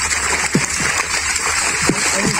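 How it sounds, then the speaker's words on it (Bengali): Tilapia and pangas thrash in a farm pond as five people haul them out, giving several short, wet splashes and sloshes over a constant watery background. "পাঁচজনে মিলে মাছগুলো ধরে নিতেছে।"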